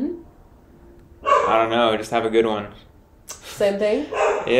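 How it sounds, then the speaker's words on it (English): A dog barks in the background of an indoor conversation, the barks loosely spaced and partly blended with people talking nearby. "we apologize for the dog barking in the background"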